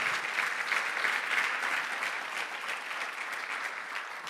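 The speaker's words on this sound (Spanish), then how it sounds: "Dale un aplauso al Señor." Continuous, full applause from a congregation at a Spanish-language church service, many people clapping together in a dense, even wash of sound that holds steady for several seconds without interruption.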